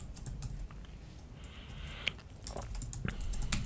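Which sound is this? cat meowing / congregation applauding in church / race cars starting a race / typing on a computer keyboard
typing on a computer keyboard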